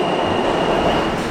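A New York City subway train runs on a blizzard day, a steady close rumble of wheels and cars with a thin high whine held throughout; no voices.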